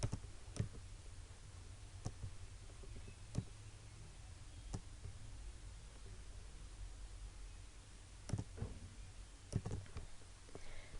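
Faint, sharp computer mouse clicks come irregularly, singly and in close pairs, over a low steady hiss while working in Adobe Illustrator.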